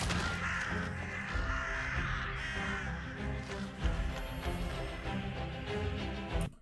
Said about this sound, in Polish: No i pan Kruk dostarcza maila jakiemuś jegomościowi, który ma bardzo fajne poroże na głowie